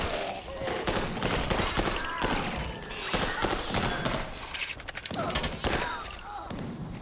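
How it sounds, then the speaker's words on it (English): Enemies fire on the player in a shooter game, with sharp repeated gunshot bursts and thuds going off loud and close across the stretch, mixed with busy game noise. "Stop shooting at me."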